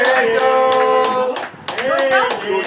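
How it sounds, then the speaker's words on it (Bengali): Several people clap their hands in quick bursts at a Bengali Annaprashan rice ceremony, the baby's first rice feeding, with voices talking over the clapping. "এইদিকে কেউ হাততালি দাও"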